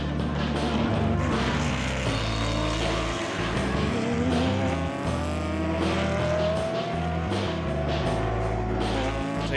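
Mosler race car with an LS7 engine at the NZ Endurance Championship, a loud, deep engine roar that steps up and down through gear changes and holds close and continuous throughout.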